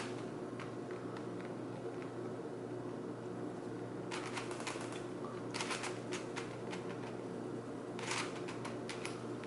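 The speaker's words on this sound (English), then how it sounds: "go along this new cut right here" A Curvy Copter twisty puzzle is being turned, giving short bursts of crisp plastic clicking and clacking in a few separate clusters over a steady background hum.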